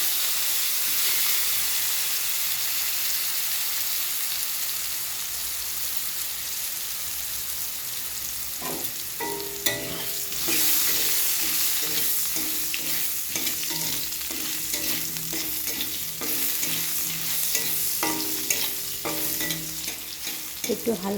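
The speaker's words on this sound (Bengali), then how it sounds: "একটু হালকা ফ্রাই করে নেব।" Cut potatoes fry in the same oil just used for frying fish in a pan, a steady loud sizzle and hiss with intermittent scraping and clinking of stirring throughout, no talking.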